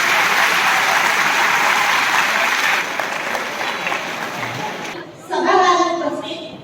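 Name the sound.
applause welcoming guests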